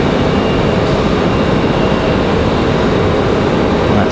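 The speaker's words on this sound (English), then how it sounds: "That's 737 MAX 9. No, it's the American." An American Airlines Boeing 737 MAX 9 departs on a stormy day, its engines a loud, steady broadband roar that fills the whole stretch without letup.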